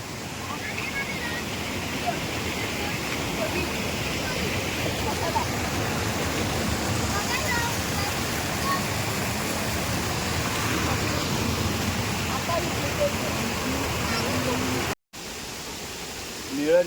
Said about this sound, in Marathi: पाण्याचा आवाज बघा फक्त.